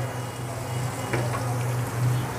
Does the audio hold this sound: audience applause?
no